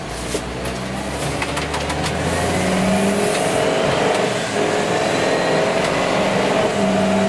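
Ford U-Haul 14-foot box truck engine revving hard at around 2,800 RPM on the road, a loud, continuous drone with a rising pitch and no voices.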